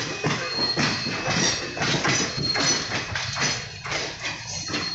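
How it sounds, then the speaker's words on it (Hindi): Carriage wheels of the Mussoorie Express, an Indian passenger train, rattle along the rails at full speed between Delhi and Haridwar, a loud continuous roar with rhythmic clicks over rail joints and no voices. "ट्रैक साउंड सुन के मजा आ जाता है गाइस, ट्रेन की हार्ट बीट है ट्रैक साउंड।"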